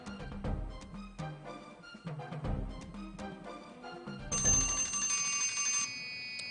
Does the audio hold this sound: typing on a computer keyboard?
no